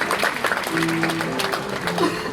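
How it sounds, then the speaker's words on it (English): Applause from an audience at the Father Agnel School, Noida prize distribution, moderate clapping under a voice speaking over it. "Please applaud her commendable efforts"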